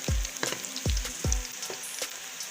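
Onions frying in a hot pan for Pakistani chicken karahi, a steady close sizzle broken by a few sharp bumps and scrapes of stirring, with no voices.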